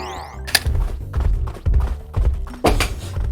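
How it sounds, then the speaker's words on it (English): Barrel cannon blasts in the video game Donkey Kong Country Returns, a series of loud, punchy thunks spaced about a second apart over continuous game music and effects. "We've got some cool cannon shots we can do here."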